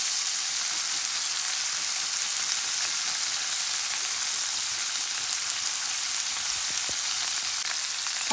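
Green beans with freshly grated garlic sizzle in a hot pan, a steady, dense crackling hiss that runs unbroken from start to finish with a few faint pops and no voices.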